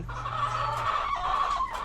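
Chickens in a coop cluck and murmur nearby in a steady, busy stream of low calls, with a faint hum underneath.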